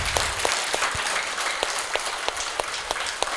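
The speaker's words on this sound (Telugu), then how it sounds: "ఒకసారి గట్టిగా చప్పట్లు కొట్టుకుందాం లేచి, గట్టిగా, ఇంకా గట్టిగా." A crowd at a pyramid anniversary gathering claps loudly, a steady dense roar of applause with a few sharper individual claps standing out near the listener.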